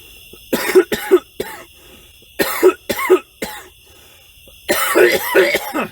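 Three bursts of coughing, each a quick pair or triplet of harsh coughs, close and loud with pauses between.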